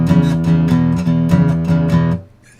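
A blues march in E on guitar, with the notes left to ring out rather than cut short, sounds as a steady run of sustained plucked notes that blur together for about two seconds, then decay into near quiet.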